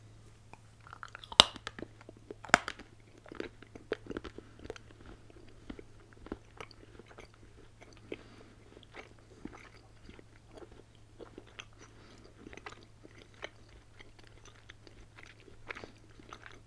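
Someone bites and chews a Feastables MrBeast original chocolate bar up close, with sharp crunchy snaps early on and then quiet, irregular chewing over a low steady hum, with no talking.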